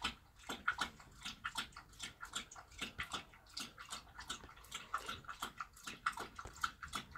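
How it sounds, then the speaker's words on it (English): A dog laps water from a bowl in quick, steady rhythmic slurps, close and fairly quiet, continuing for several seconds with no talk over it. "My dog over here drinking that water like she thirsty."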